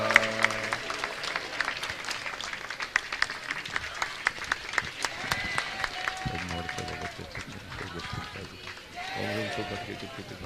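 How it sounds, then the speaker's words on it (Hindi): A congregation claps in rhythm during a Jain Siddhachakra Mahamandal Vidhan and world-peace yajna ceremony, with sharp, steady claps running over chanting voices and general crowd noise. "सब तालियां बजाएंगे।"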